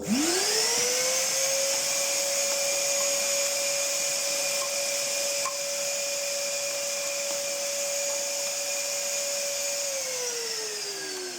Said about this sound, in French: Je repasse un petit coup d'aspirateur.